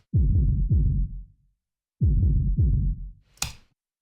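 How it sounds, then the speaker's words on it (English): Reverb-soaked kick drum with a cavernous, booming tone, struck in two pairs of deep thuds with long decaying tails, followed by a brief brighter hit at the end. "this is kind of what gives the kick its kind of like cool cavernous sound"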